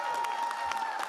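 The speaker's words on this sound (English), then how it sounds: "so let's give him a big cheer]], Dr. Youssef Majid." An audience applauds and cheers at an RCGP members' and fellows' ceremony in Manchester. Steady, dense clapping fills the whole brief moment with a faint cheer mixed in.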